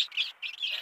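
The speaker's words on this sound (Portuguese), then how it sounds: "Eles estão piando porque eles gostam de ficar soltos." Young chicks on a farm peep in a quick series of high, thin chirps, close and clear against an otherwise quiet background.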